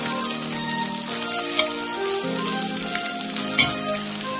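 Egg fried rice with chili powder frying over a low flame, a steady close sizzle with soft crackle and a couple of brief utensil knocks.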